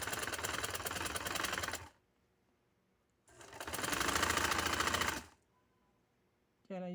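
A sewing machine stitches lace onto a plain shalwar, running close and loud in two long rapid bursts separated by a quiet pause, with a brief third burst starting at the end.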